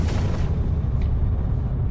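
A deep, booming blast rolls on as a continuous loud rumble, heavy in the low end, with no speech.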